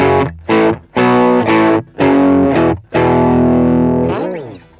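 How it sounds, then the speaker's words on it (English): Crunchy, mostly clean electric guitar tone from a Peavey Bandit 65 solid-state amp playing a short riff of chords with brief gaps, ending on a sustained, fading chord. "So here's our starting tone. It's a bit crunchy but still fairly clean."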